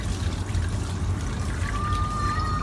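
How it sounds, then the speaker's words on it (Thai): Water pours steadily from a washing machine drain hose, a soft, continuous trickling stream at a fairly low level with no one speaking. "เทลงไปเลยครับ น้ำก็จะออกมาครับ"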